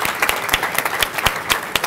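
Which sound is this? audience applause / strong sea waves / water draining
audience applause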